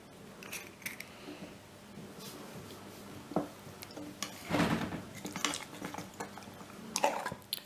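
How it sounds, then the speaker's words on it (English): An egg cracked into golden syrup in a jug and mixed, with soft taps, a wet crack and clinking utensil scrapes against the jug, close and quiet with no talking. "I've got my golden syrup in this jug and I'm going to crack in an egg and mix them together"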